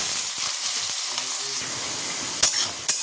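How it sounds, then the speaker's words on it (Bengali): Potatoes frying in a pan with chilli and cumin tempering while mochar ghonto is cooked, a steady close sizzle and hiss, with two short sharp crackles or stirring clatters near the end. "এবার একটু আলু ভেজে দেবো।"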